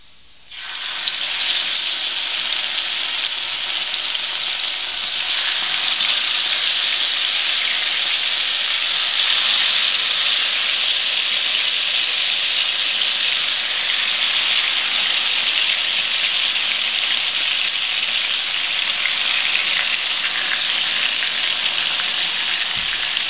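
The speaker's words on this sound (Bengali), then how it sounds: "আমি মিডিয়াম আঁচে চিকেনগুলো ভেজে নিচ্ছি।" Chicken pieces frying in oil in a frying pan over medium heat give a loud, steady, even sizzle that starts abruptly and holds for the whole stretch, with no voices.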